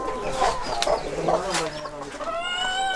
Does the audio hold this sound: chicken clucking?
yes